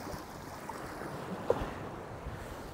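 Strong seaside wind while fishing from the shore, a steady, faint rushing roar with buffeting on the microphone and surf-like washing, continuous and without speech.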